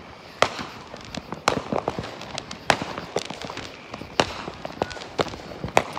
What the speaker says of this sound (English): Lighting up fireworks.